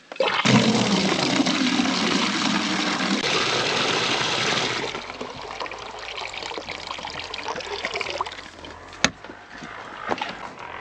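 Water gushes loudly into a heated bucket for horses on a snowy day, a strong rushing fill for about five seconds that then drops to a softer trickle, with a sharp knock near the end.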